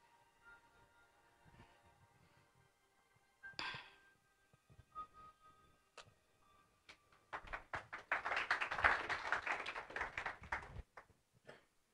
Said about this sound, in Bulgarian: А за какво ръкопляскаме?